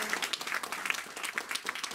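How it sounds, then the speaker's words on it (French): Church congregation clapping in praise during a sermon, quiet and somewhat distant, with a loose rhythmic pattern of hand claps throughout. "Donnons quand même une acclamation au Seigneur"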